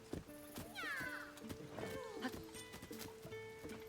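A horse in the video game The Legend of Zelda: Tears of the Kingdom whinnies with a rising, wavering neigh amid game sound effects and steady clip-clop, while a person talks faintly in the background.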